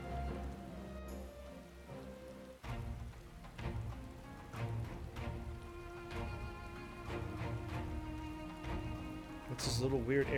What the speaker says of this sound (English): It's raining again in this game.